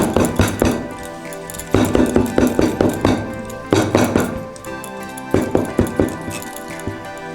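A pan of fruit cake batter is tapped against a hard surface in quick bursts of repeated close thunks and rattles, four rapid rounds separated by short pauses.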